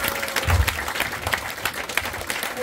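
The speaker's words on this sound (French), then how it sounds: "Et vous pouvez l'applaudir." Audience at a stage hypnosis show breaks into steady applause, a dense wash of clapping from a mid-sized crowd that stays even throughout, with a few murmured voices underneath.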